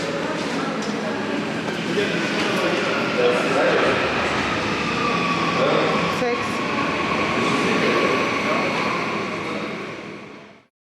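A train rolls along the rails through Nürnberg with a steady, continuous rumble and rattle that swells slightly and then fades out at the end, with no talking over it.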